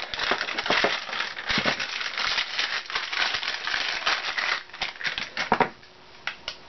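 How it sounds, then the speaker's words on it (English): Plastic packaging rustles and crinkles up close, from unwrapping valves for hot water lines during an RV PEX plumbing install. The crackling runs almost continuously for about five seconds, then thins into a few sparse crinkles. "I know you can't hear me when I'm rustling plastic"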